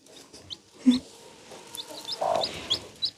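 A brooding hen clucks close by on a farm, her short calls mixing with high peeping from a newly hatched chick in an irregular back-and-forth exchange.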